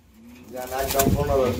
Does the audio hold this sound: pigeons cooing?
yes